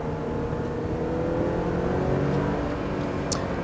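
Sports car engine pulls steadily through the gears, a continuous loud drone with rising harmonic lines, heard close from inside the cabin with no talking.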